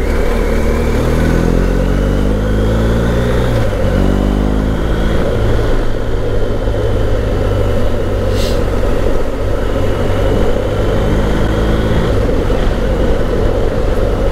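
A BMW GS Adventure motorcycle on the road, its engine droning loud and steady throughout with shifting tone as speed changes, plus wind rush and no talk.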